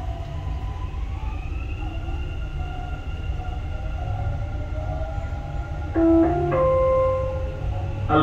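Dubai Metro Red Line train in motion between stations, a steady rumbling ride noise with rising and falling electric motor whine, then brief tonal chimes or signals near the end, no speech.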